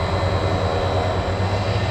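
Jet aircraft engines revving up at Tampa International Airport roar steadily at a distance, a sustained drone with a low throbbing hum underneath.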